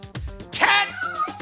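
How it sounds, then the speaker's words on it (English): A cat gives a single drawn-out meow, close and fairly loud, with a faint voice and small noises around it. "Cat, no!"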